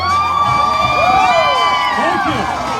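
A large crowd at a campaign rally on the University of South Carolina campus in Columbia cheers and whoops loudly, rising yells and shouts overlapping for about three seconds.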